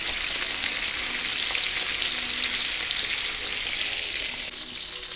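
Eggs fry in a pan with a loud, steady, close sizzle that crackles throughout with no voices.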